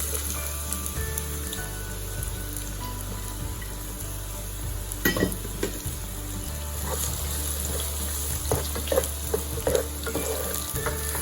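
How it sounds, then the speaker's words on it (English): Chopped onion frying in hot oil in a pan, a steady close sizzle with occasional louder crackles and pops, alone with no talk. "Once the oil is heated, let's add 1 chopped onion in it."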